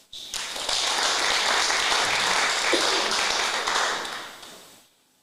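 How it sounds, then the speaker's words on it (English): An audience at a hackathon award ceremony applauds a runner-up team: steady, dense clapping that holds for several seconds, then tapers off to quiet. "Just clap for him."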